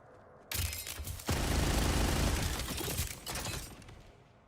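SMG gunfire in the video game Borderlands 4, heard as a dense, loud burst of rapid shots that starts abruptly, holds for about three seconds and then fades into a softer tail.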